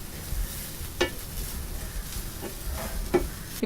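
Grated coconut roasts in a pan for a mutton curry, with a soft continuous sizzle and a few scraping strokes of the spoon as it is stirred.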